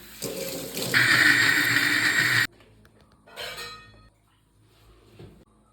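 A little water poured onto tamarind in a home kitchen, a short close splashing pour with light clinks of a vessel, followed by quieter handling sounds.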